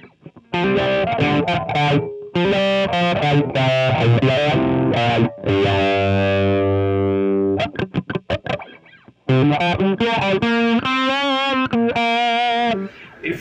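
Electric guitar run through a Morley Wah ProSeries II pedal set at its last position, loud distorted chords and sustained notes with a closed, vintage-style midrange tone, playing continuously with brief pauses.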